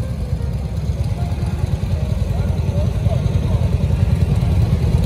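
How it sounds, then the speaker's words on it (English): A 1947 Knucklehead motorcycle engine runs steadily at a stunt show, its loud, low, rumbling idle continuous and close for the whole stretch. "We got Earl driving this 1947 knucklehead."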